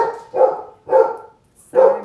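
Dogs bark as a child plays with them at home, three loud, evenly spaced barks close by, each a short, full woof with brief pauses between.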